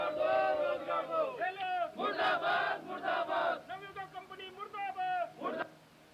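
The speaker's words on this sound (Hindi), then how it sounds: "प्रशासन के मुर्दाबाद नारे लगाते हुए ग्रामीण सड़कों पर उतरे।" Villagers in Chauras, Kirtinagar block, Garhwal, shout anti-administration protest slogans in the street, a loud crowd of voices chanting in bursts, with rising and falling call-and-response cries.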